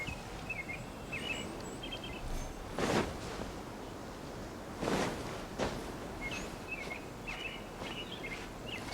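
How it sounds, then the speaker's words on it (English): Songbirds chirp repeatedly in Genshin Impact's Sumeru region, bright short trills recurring every second or so over a soft ambient bed, with a couple of louder rustling swishes passing close by. "So many birds."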